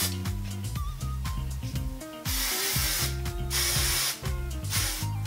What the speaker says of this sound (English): I'm using Amika's touchable hairspray, one of my favorite flexible holds.